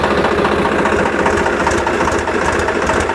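A Swaraj 735 tractor engine runs steadily in low third gear while pulling a sugarcane weeder in a field, a continuous loud diesel drone with broadband rumble and no talk.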